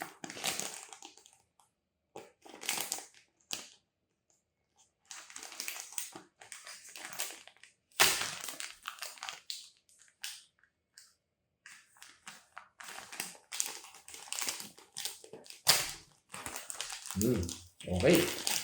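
Package opened with a knife to reach a copper face mask: irregular bursts of crinkling and cutting, scraping plastic, in short spurts separated by pauses, close up and fairly loud.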